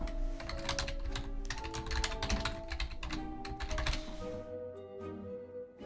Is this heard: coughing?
no